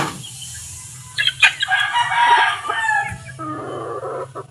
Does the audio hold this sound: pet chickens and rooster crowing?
yes